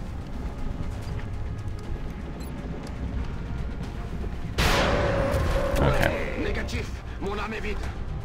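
Gunfire in the turn-based strategy game XCOM: Enemy Within, a sudden loud burst of shots and crackling impact noise mid-clip over game background sound, with someone talking throughout.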